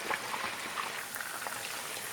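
Meatballs frying on low heat in a pan give a steady, dense sizzle and crackle of hot oil, fairly close and continuous, with no talking.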